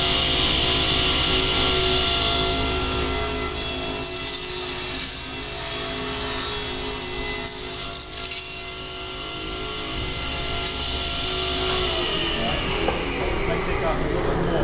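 A table saw ripping a wooden board just under ten inches wide: a loud, continuous motor whine and cutting roar that holds steady, dips briefly partway through, then carries on.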